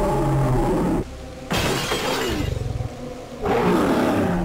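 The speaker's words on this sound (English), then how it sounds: "There are great ghoulish and blood-curdling sounds from the monsters, groaning, screeching, roaring." Monster roars and shattering crashes from the PS1 horror video game Nightmare Creatures 2, loud bursts of roaring noise separated by a brief quieter gap with a rumbling growl in the middle.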